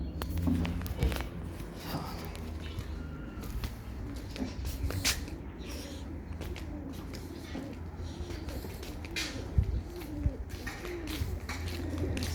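Pigeons cooing in a rooftop loft, repeated low coos with scattered shuffling, scratching and footsteps, steady and close, with faint background voices.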